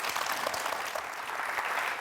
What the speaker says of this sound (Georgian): აპლოდისმენტები ჭირდება